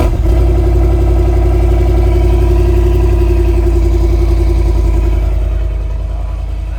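A 2022 Grand Wagoneer Obsidian 4x4 with a 6.4-liter Hemi V8 fires up close by and settles into a loud, deep, steady idle with a throbbing pulse, easing slightly toward the end.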